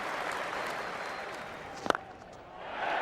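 A cricket crowd at a Test ground erupts into applause and cheering after a boundary, a broad sustained roar with scattered clapping heard from a distance, fading slightly before swelling again at the end.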